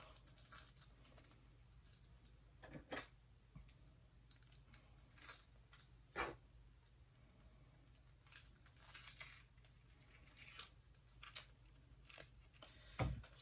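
Scissors snipping fabric around the tab of a sewn pocket wallet, a series of quiet, separate crisp cuts at uneven gaps over a soft, low background.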